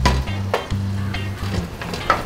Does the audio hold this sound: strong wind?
no